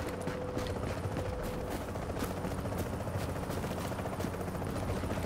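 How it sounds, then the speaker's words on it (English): A helicopter in the video game The Division thumps in a steady, moderately quiet rotor beat, with brief mechanical clicks and bursts on top. "There is a helicopter."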